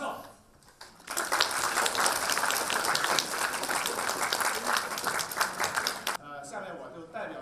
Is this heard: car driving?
no